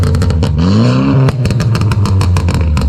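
A loud Stage 2 modified Mercedes CLA 250 engine revs hard, its pitch climbing and dropping, with sharp crackling pops and bangs scattered throughout.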